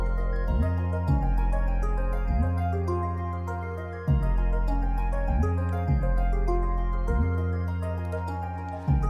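A short hip-hop beat in a type-style production loops with a sustained bass-heavy arpeggiated synth pattern and a crisp snare that returns the groove to its start, playing alone and loud with steady repeating bars.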